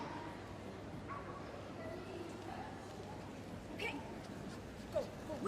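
A 7-year-old miniature schnauzer yips and barks excitedly during a small-dog agility team final run at Crufts, brief high calls scattered over a low arena murmur, with a louder burst near the end.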